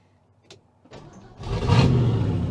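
A 1968 Ford F100 truck engine catches and rises into a steady, loud running rumble after a couple of brief starter clicks, close by with no talking.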